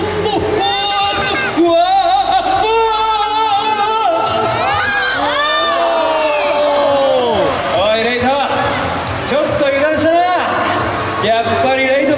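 Fans cheer and shout excitedly at an Ultraman actor's fan event in Chongqing, a loud, continuous crowd din with whoops rising and falling throughout, voices overlapping.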